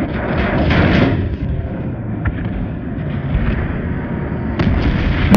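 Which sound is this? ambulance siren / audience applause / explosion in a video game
explosion in a video game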